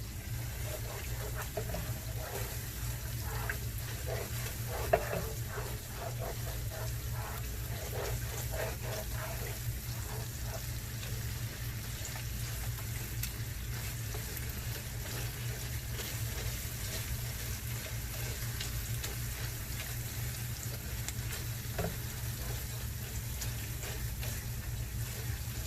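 Tomato paste for jollof rice fries in a pot with a steady low sizzle and occasional soft scrapes of stirring, continuous and close for the whole stretch, with no voices.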